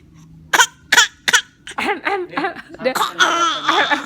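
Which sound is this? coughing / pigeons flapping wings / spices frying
coughing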